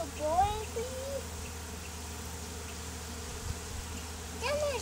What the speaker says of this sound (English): That's a boy bee, That's a boy bee